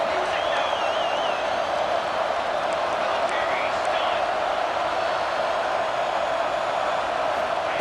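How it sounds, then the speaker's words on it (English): Large college football stadium crowd at Oregon vs USC, a constant dense roar of many voices with faint whistles and cheers rising out of the wash, sustained throughout without clear breaks. "Listen to the crowd energy here in the early going."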